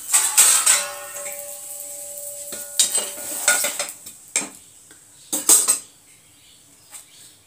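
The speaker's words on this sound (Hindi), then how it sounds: "प्लेट में निकाल ले रही हूँ" A plate handled in a home kitchen as a ghee-cooked milk paratha is lifted out of the pan onto it, with sharp clinks and clatters of utensils and crockery coming in bursts, loud and close, with quiet gaps between.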